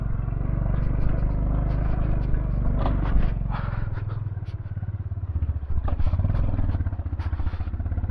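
A Honda Highness motorcycle pulls away on a rough, broken road, its engine thumping steadily and close with rattles and knocks from the bumpy surface throughout.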